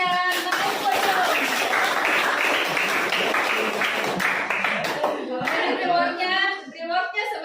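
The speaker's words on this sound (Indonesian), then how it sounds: "Kita kasih aplaus untuk yang naik podium." An audience gives steady applause for the podium winners, with dense clapping filling the room, then the clapping tapers while voices speak over its end.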